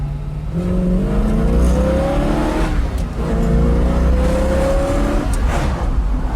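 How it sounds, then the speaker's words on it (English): A 1966 Ford Mustang K-Code with a 289 HiPo V8 of 271 horsepower revs hard twice, each run climbing steadily in pitch before dropping back, loud and close with no talking. "It's a HiPo motor, so it's going to be a high revving motor."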